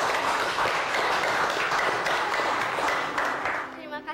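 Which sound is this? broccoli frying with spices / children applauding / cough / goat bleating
children applauding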